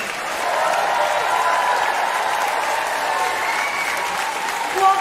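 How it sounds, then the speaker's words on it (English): An audience gives a carol concert a final round of applause, with steady, full clapping from a large crowd that holds at an even level throughout. "Give them one last round of applause."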